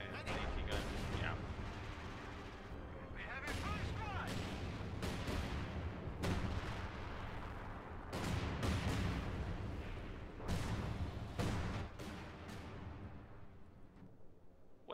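Artillery barrage and gunfire from the Company of Heroes 2 strategy video game, with repeated loud booming impacts and crackling shots over a dense battle backdrop, under continuous commentary talk.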